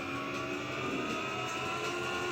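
Ferrari race car engine in a racing video game, a steady droning whine that holds at an even level throughout, with no speech.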